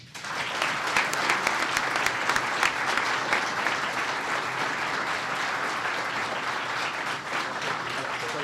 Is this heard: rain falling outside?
no